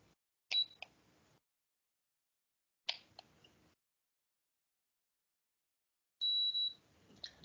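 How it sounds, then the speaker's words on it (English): A short electronic beep from a thermometer, then a longer steady beep several seconds later when the temperature reading is ready, each with faint clicks nearby in an otherwise quiet room. "And it will beep."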